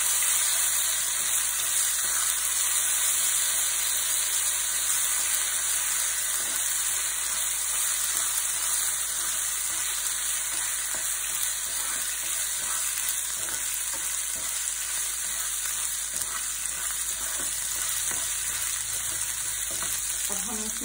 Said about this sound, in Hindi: हम भी जिंजर गार्लिक अदरक लहसुन का जो पेस्ट है ये डाल देंगे,